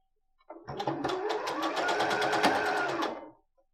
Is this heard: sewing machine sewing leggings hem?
yes